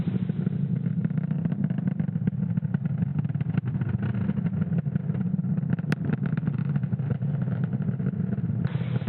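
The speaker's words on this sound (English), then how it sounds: "Falcon 9 has successfully lifted off from Space Launch Complex 40 from the Cape at 11:35 a.m. Eastern Time." Falcon 9 rocket lifting off from Space Launch Complex 40 at Cape Canaveral: a steady, loud, dense low roar with crackling texture runs unbroken through the whole stretch, no voices over it.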